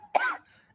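A single short, rough cough from a man outdoors, close and fairly quiet, followed by a brief breath.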